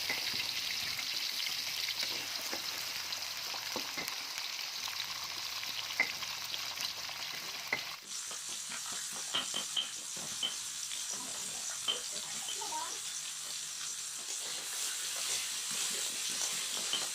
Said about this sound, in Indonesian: Pertama, goreng jengkolnya sampai matang.